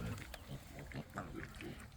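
A pig on a family farm grunting in short low repeated snorts, faint and close, with some background noise.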